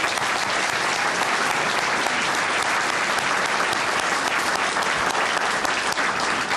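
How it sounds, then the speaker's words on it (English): A round of applause for a former police superintendent fills a hall, dense and loud throughout, a continuous even roar of many hands clapping at once. "how about a round of applause?"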